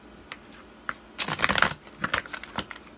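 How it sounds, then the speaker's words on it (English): Papery riffling of tarot cards being shuffled in quick bursts, with a denser flurry in the middle, close and fairly soft, no talking. "I'm gonna give y'all two more extra shuffles."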